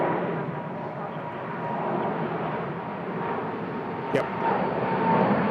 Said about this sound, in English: Here comes a beautiful Thai 777, one of my favourites that we see here in Bangkok.